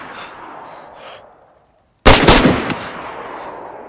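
Rifle fire in the video game DayZ, a sudden loud burst of rapid shots that cuts in after a quiet gap and trails off into a faint rumbling tail.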